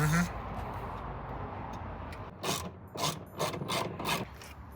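A ratchet tightens a taillight fastener on a slammed Honda, with several quick bursts of close, crisp clicking after a stretch of background noise and voices.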